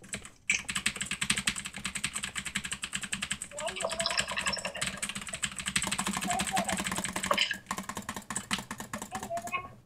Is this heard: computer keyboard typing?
yes